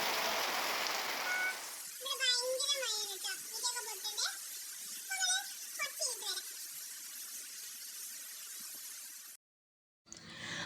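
Steady rain falls throughout, a dense, even hiss, while a voice speaks over it for several seconds before a brief dropout near the end.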